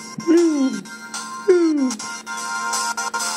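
Wave Race 64 game audio plays through an emulator on an HTC EVO 3D phone, with electronic tones sweeping downward in short phrases that break up into choppy, stuttering gaps.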